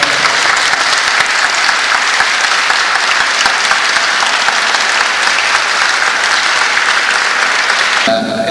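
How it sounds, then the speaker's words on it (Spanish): An audience at a live cumbia band concert applauds loudly and steadily for about eight seconds, a dense, close wash of clapping that fades at the end. "Un fuerte aplauso, por favor."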